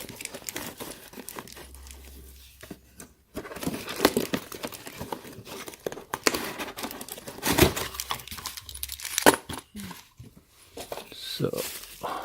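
Packaging crinkles and rustles while a solar LED motion sensor light is unboxed, with plastic handling and light clattering of parts close by, mixed with someone speaking at times.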